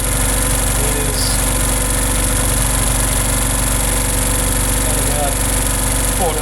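Three-phase four-pole electric motor running under test near 1420 RPM, a loud continuous hum with steady vibration, unchanging throughout.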